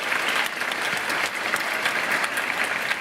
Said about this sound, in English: let's give Patricia a huge round of applause